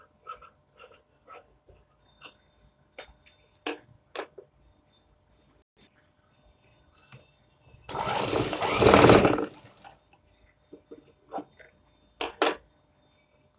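A sewing machine stitches piping onto a blouse, giving a short continuous whirring run in the middle, surrounded by scattered clicks, fabric handling and quiet movement nearby.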